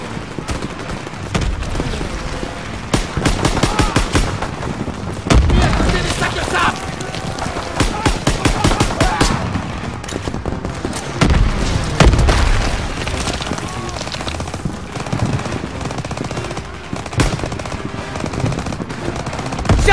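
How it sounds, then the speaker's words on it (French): Dense machine-gun bursts and heavy explosions from a World War II video game battle on the Rhine, continuous rapid gunfire with booming blasts throughout, loud and close, with shouted voices mixed in. "Fumigène et tire de suppression!"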